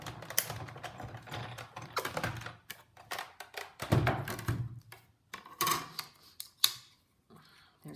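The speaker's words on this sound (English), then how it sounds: "I'm going to die cut out the word baby" A die-cutting machine cuts out paper shapes for a baby card, giving a run of close mechanical clicks, thunks and grinding bursts with short pauses between them.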